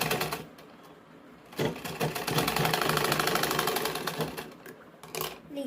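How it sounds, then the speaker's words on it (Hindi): A sewing machine stitches the corner of a shawl-style blouse collar, its needle chattering in a fast steady close rhythm that starts, runs, then slows to a stop, with no talk. "इसी तरह अपन को यहाँ पे कोना भी सिल लेना है।"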